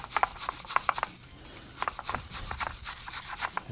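Brisk scrubbing at the slots of a Dacia Duster brake caliper, rapid rasping strokes in bursts with a short pause midway, close and fairly loud.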